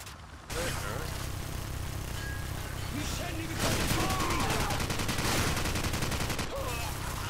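Call of Duty 4: Modern Warfare campaign firefight, sustained bursts of automatic gunfire and scattered shots running throughout, with a player talking over the battle.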